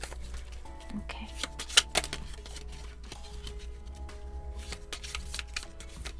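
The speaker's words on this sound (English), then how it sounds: "I'm going to shuffle it properly." A deck of cards is shuffled by hand up close, with rapid papery riffles and soft taps in uneven bursts, no speech over it.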